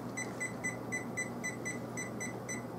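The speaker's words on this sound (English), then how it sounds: "We're going to set our timer" Kitchen timer beeping in a steady series of about ten short, evenly spaced electronic beeps over low background hum, with no talking.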